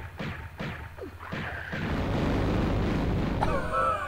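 A video game explosion in the Sanctuary of the Scion level: a few short thumps, then a heavy sustained rumbling roar, with a bright tonal chime cutting in near the end.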